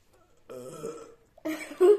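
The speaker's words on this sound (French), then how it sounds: "c'est bizarre que j'ai roté" A man burps twice in a garage, first a longer rumbling belch and then a shorter one, fairly close; a brief voiced sound ends the clip.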